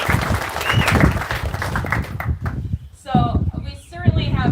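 Members of the Lake Pepin Legacy Alliance clap at an outdoor groundbreaking ceremony for the Upper Pool 4 habitat project. The applause is moderately loud and fades after a couple of seconds, followed by a voice speaking.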